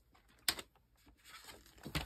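A paper file folder is cut on an angle in two brief, quiet crisp snips about a second and a half apart, with near silence between.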